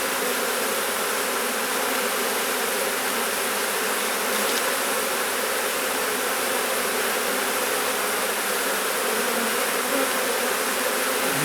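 Honeybees hum steadily around a frame lifted from an opened hive, a dense, continuous buzz that stays close and even throughout with no voices.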